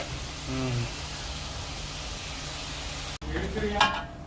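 Tomatoes sautéing in a pan for a chicken gravy, a continuous close sizzle and hiss with brief stirring scrapes, a voice speaking over it at moments.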